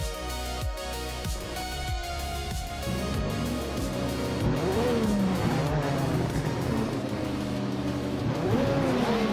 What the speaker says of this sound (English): the race is underway at Monza Vintage Oval. It's the F1 1988 class